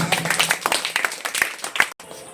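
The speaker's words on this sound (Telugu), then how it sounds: "క్లాప్స్" A small group at a children's motivational class claps in quick, uneven bursts of sharp hand slaps, fairly close, with voices mixed in before it cuts off abruptly.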